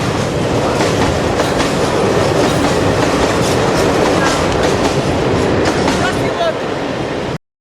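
A train rolls past loudly and close in Niš, Serbia, a continuous rumble with rhythmic clickety-clack of wheels over rail joints, a faint squeal near the end.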